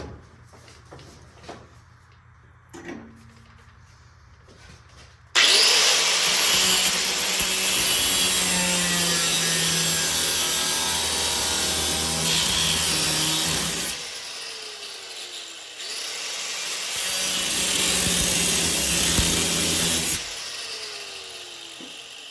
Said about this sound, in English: I may just take the cutoff wheel and go ahead and cut through that and just re-weld that base metal